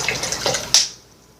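Hot water splashes onto a dry coco fiber substrate brick in a short, close, bright pour that cuts off abruptly and fades into quiet.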